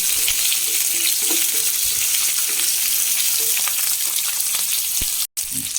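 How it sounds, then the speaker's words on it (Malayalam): Shallots and dried red chillies fry in oil in a pan for a bitter gourd curry, a loud, steady, continuous sizzle with occasional stirring scrapes, and no talk. "നമുക്ക് കുറച്ച് ചെറിയുള്ളി രണ്ട് ഉണക്കമുളക് ഇട്ട് കൊടുക്കാം"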